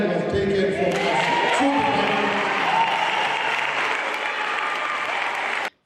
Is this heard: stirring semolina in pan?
no